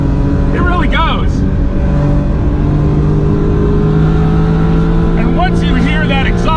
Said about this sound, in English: once you hear that exhaust note, you're gonna forget about all that lack of low end torque